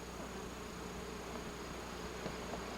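Honeybees buzzing around opened hives during honey harvesting in Florida, a faint, continuous insect hum with scattered individual bee passes in the background.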